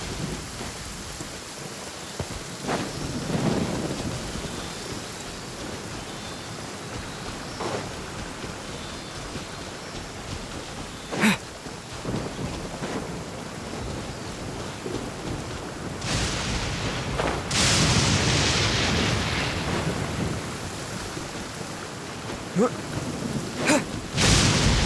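Steady rain falls in a Genshin Impact thunderstorm, with several rolling thunder claps and sharp cracks breaking through the constant hiss, fairly loud and close.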